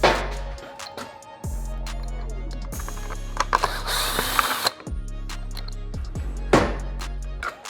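A power driver runs in repeated close bursts while removing two short collar screws from the bottom tail panel of a 2021 BMW S 1000 RR, with whirring spin-ups, pauses, ratcheting clicks and handling clatter between them.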